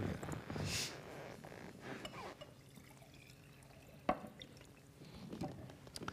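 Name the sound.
water being poured into a glass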